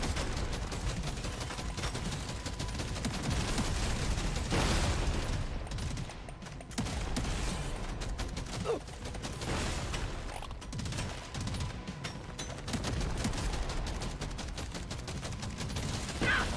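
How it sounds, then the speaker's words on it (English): Rapid shotgun blasts in the Deep Rock Galactic Survivor game, a dense, continuous volley of sharp shots repeating over a busy background of other combat sounds. "I really need that shotgun to hit harder."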